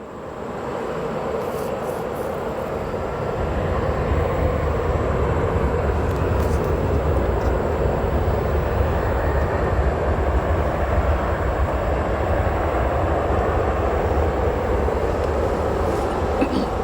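A Boeing 777 freighter at O'Hare airport produces a steady, loud jet-engine roar that swells in and holds for many seconds, broad and rumbling with no talk over it.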